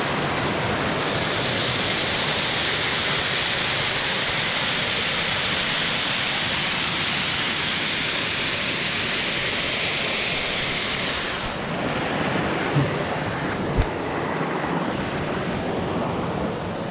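A river rushing through a gorge beside a swimming hole, a steady, full broadband wash of flowing water heard close and constant, with a brief knock near the end.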